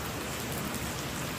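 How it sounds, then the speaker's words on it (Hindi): Heavy monsoon rain falls outside in Dehradun, a dense, steady roar of drops on surfaces with no break. It sounds loud and close throughout. "इससे कम से कम एक घंटा से ऊपर हो गया इस बारिश को"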